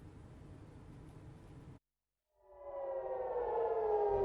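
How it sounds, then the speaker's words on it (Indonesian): A wailing air raid siren in Haifa, Israel, sounding a rocket warning, rises out of a brief silence and holds a long, slowly falling tone, following a burst of rough background noise. "Sirene terdengar di Haifa, Israel pada hari Jumat setelah ada peringatan mengenai roket"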